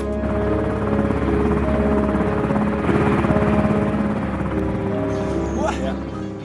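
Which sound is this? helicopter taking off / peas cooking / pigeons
helicopter taking off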